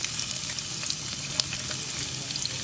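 Chopped onion hitting hot oil in a karahi for qeema: a dense, bright, crackling sizzle that holds steady across the clip, with small pops and spatters close by, no voices.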